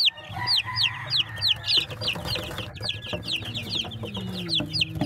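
A Rhode Island Red rooster and crossbreed Rhode Island Red–native chickens cluck close by in quick, repeated calls over a low background hum, with a brief crow-like sound near the middle.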